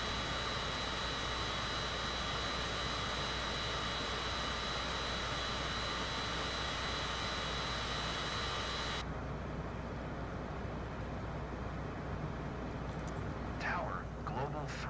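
Jet airliner on final approach and landing in Microsoft Flight Simulator 2024, a loud continuous engine roar with broadband rush, which shifts and thins partway through as a voice speaks over it.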